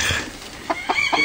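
A chicken clucks three times in short, evenly spaced calls while stuck on netting stretched over the top of an outdoor pen. The calls are close and clear above a steady background hiss.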